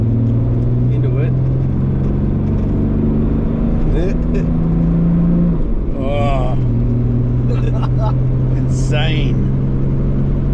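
A turbocharged Toyota 1HZ diesel engine pulls hard up a curving on-ramp, its loud, steady drone rising in pitch as it accelerates from inside the cab, with voices talking over it.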